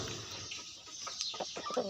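A jungle fowl rooster, the flock leader with several hens, gives short clucking calls outdoors over steady background hiss, with a few sharper notes toward the end.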